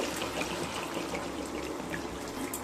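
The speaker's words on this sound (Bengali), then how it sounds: "এবার দিয়ে দেবো পরিমাণ মতো জল" Water pouring into a pan of mixed vegetable curry, a steady close trickling and gushing flow that runs continuously without speech.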